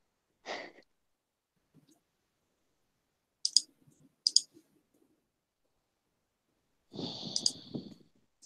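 Loud clicking from a computer setup, sharp click bursts at intervals with soft breathy noise between and a denser rustling burst near the end.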